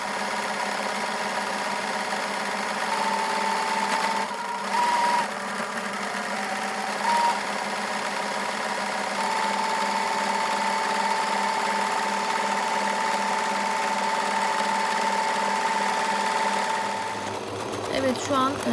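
A home sewing machine stitches the edge of a cocktail napkin, its rapid steady mechanical whir running close and continuously with brief pauses, then stopping near the end.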